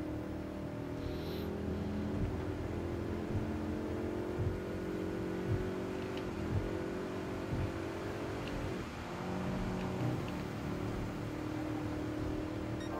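Car engine in the Gran Turismo racing game on PlayStation 4: a steady, droning motor tone that holds throughout, with small rises and dips in pitch as the revs shift, and no talking.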